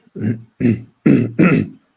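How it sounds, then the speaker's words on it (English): Someone clears their throat close up in four short, gruff bursts with brief pauses between. "Clear my throat."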